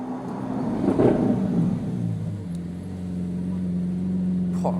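Lamborghini Aventador engine idling and revving nearby: a loud rising surge of engine noise early on, then settling into a steady, low rumbling idle.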